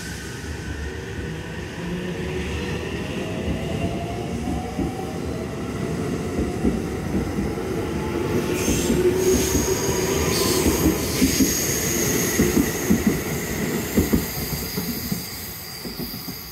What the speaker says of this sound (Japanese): 19時6分発の熱海行きが到着。